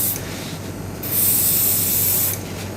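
An airbrush sprays paint onto a small Gilgamesh figure, giving a steady close hiss that swells louder for about a second in the middle and then drops back to a softer rush.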